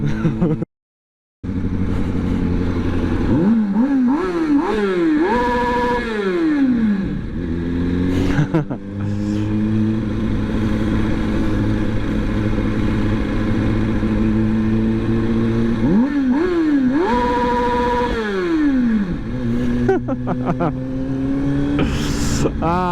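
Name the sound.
Kawasaki 636 motorcycle engine revving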